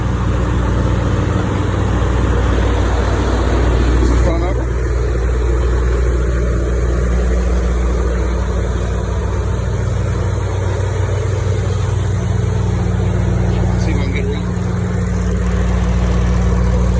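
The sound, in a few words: Freightliner Cascadia Evolution truck engine idling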